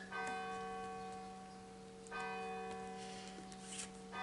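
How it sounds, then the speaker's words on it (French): Village church bells ring in steady, sustained tones with strikes renewing around every two seconds, fairly faint and distant, with no voices over them. "Et vous avez encore une fois les cloches."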